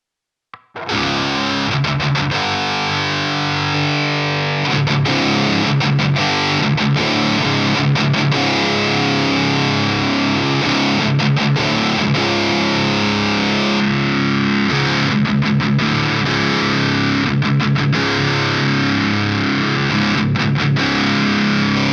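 An electric guitar roars through an HM2-style distortion pedal, heavy buzzing distortion, thick saw-edged chords played loudly and steadily with brief choppy breaks.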